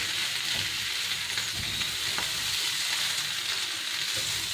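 Chicken 65 sizzles steadily in a hot pan while it is stirred with lemon juice, a continuous close, loud frying hiss with faint scraping underneath and no voices.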